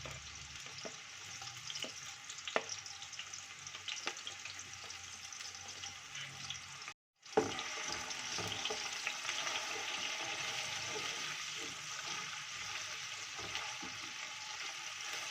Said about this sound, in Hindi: ऑयल के गर्म होने पे हम अनियन ऐड करेंगे जो कि हमने स्लाइसेस करके रखे हुए थे।